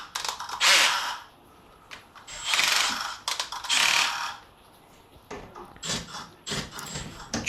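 A ratchet with a 13mm socket tightens TV wall-mount bracket bolts into brick and plaster. Repeated bursts of loud, close clicking pawl ratcheting are separated by short pauses.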